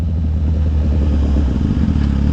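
A Suzuki Gixxer motorcycle being ridden gives a loud, steady engine drone with rumbling low tones and a slight wavering rise near the end, recorded close up.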